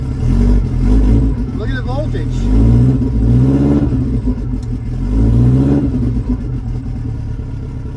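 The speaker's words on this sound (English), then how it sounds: "Start the car." A Lotus Esprit with an alternator that is not charging cranks, fires up and revs before settling into a steady run, close by and loud beneath someone talking.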